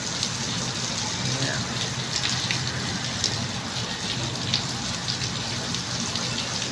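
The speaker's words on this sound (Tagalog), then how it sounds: "Ayan ang ulan." Steady morning rain pattering down in Muntinlupa City, Philippines, a dense continuous hiss with scattered drop ticks, fairly close and unbroken throughout.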